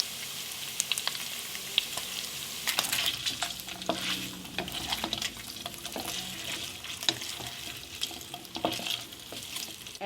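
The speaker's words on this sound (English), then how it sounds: "cook the meat until the fat starts releasing, just like this, and cook it until it turns golden on all sides" Smoked pork sizzles steadily in a pan as its fat releases, with a constant crackling fry and frequent sharp scrapes and clicks from stirring, close and alone with no voices.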